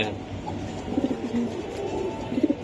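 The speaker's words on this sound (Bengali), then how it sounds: "এই যে দেখাইলাম ভাই কবুতর দেখেন অস্থির লেভেলের দেখছেন" Soft, low coos from racing Giribaz pigeons repeat in short bursts against a steady background hum, murmuring and fairly close.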